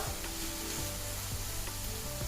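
Sliced ridge gourd sizzles and fries steadily in a pan over a medium flame, a continuous close hiss with faint stirring scrapes and no talking.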